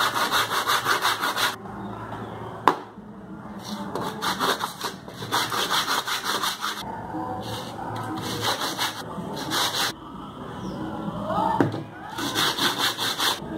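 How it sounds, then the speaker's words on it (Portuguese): Wood being sanded by hand with sandpaper to flatten it before gluing, a wooden mug project: rhythmic rasping back-and-forth strokes close up, in bursts separated by short pauses, with a couple of sharp knocks. "Mas para fazer a colagem eu preciso passar uma lixa nessa madeira para ela ficar bem retinha"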